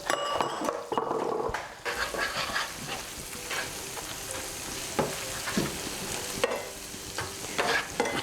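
Ginger and garlic fry in melted butter in a pan, giving a steady soft sizzle with scraping spoon strokes and occasional clinks against the pan close by.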